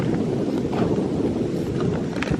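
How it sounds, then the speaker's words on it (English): Strong wind blows steadily near a beach, a continuous, loud rushing roar that buffets the microphone, with no voices heard. "It's really windy near beaches."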